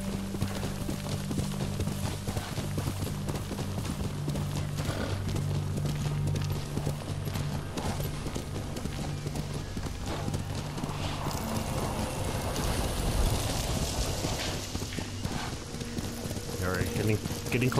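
Horse hooves clip-clop steadily in the samurai video game Ghost of Tsushima, a continuous trotting rhythm running throughout under someone talking and a low background score.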